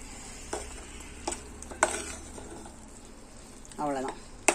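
Carrot milk halwa with ghee-fried cashews and raisins is stirred in a pan, giving a few soft, separate scraping strokes over a low background, with a short voice-like tone near the end.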